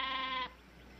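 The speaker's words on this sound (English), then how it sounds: "They are not stock. They're sheep." A sheep in a classic Western TV drama lets out a single clear, wavering bleat lasting about half a second before fading into quiet background.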